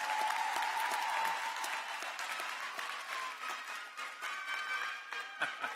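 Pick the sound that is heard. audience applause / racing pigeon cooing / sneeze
audience applause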